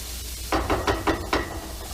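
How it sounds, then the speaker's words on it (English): Carrots frying in a little oil in a pan while fried rice is being made, giving a soft steady sizzle with about five brief louder bursts of crackle and stirring, close and without talk. "I have here my carrots cooked in a little bit of oil"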